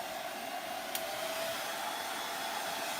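A hair dryer blows a steady, even whir at close range as it dries paint inlays on a jewelry box, with one brief click partway through.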